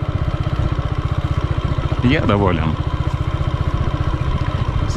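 A Racer Tourist 150 motorcycle idles after wintering in a cold garage, its single engine putting out a fast, even, close-up thumping pulse for the whole stretch while someone speaks briefly over it.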